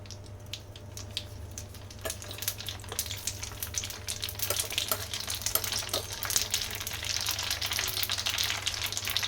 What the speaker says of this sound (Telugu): ఆయిల్ బాగా హీట్ అయిన తర్వాత మూడు టేబుల్ స్పూన్లు ఆవాలు